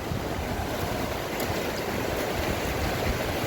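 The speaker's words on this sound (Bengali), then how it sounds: "এখানে ঢেউগুলো পুরীর মতো অত বিশাল বিশাল বড় নয়, ছোট ছোট ঢেউ।" Small, gentle sea waves wash onto a wide sandy beach in a steady, continuous rush, with wind buffeting the microphone.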